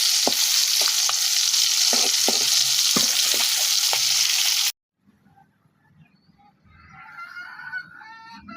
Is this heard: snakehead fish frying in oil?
yes